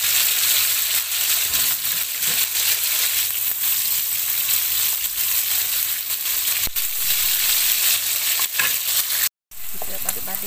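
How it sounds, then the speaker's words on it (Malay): Okra fries in a pan with a loud, steady hiss of sizzling oil. The sound is continuous and close, with a brief cut near the end. "Kita goreng bendi ni"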